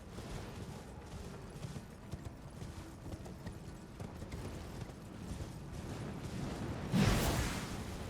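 Soft, steady hoofbeats of a horse in a video game clip-clop under ambient noise, followed by a sudden swooshing burst near the end.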